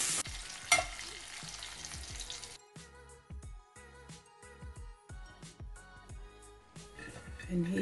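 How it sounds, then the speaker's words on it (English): Prawns fry in a pan with a sizzle that is strongest at first and then turns quieter and more intermittent, broken by clinks and scrapes of stirring. "So basically what I'm doing here is frying them on each side"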